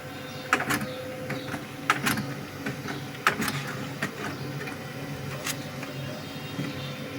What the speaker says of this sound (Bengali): আমাদের বেলং চেকটি প্রিন্ট হচ্ছে